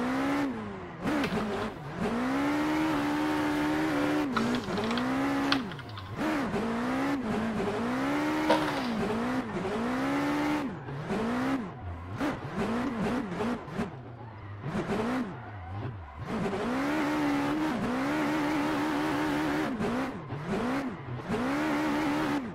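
A GTR drift car from the VDC pack in the racing game Assetto Corsa revs hard and continuously, the engine note rising and falling with each throttle blip while tires squeal through slides. No voices are heard.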